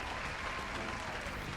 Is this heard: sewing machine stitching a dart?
no